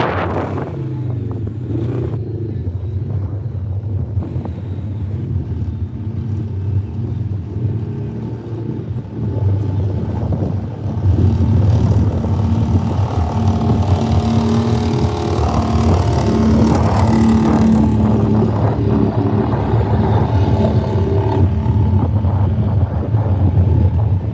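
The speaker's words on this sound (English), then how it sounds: "I can see the blue Can-Am making its way over towards us." A blue Can-Am UTV at a Hay Days outdoor event approaches, its engine drone growing louder about halfway through amid heavy wind buffeting on the microphone.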